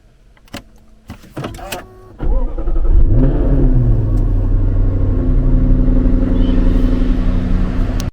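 A Jaguar F-Type R starts off after a few clicks and thumps, its engine swelling into a loud, steady deep rumble as the car drives along the road, close and continuous for several seconds.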